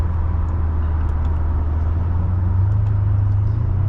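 A 2007 Mercedes-Benz CLK63 AMG Cabriolet V8 engine pulling through its gears, a steady low droning rumble with slight rises in pitch as it accelerates, heard from inside the car.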